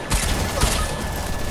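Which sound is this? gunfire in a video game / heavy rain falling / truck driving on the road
gunfire in a video game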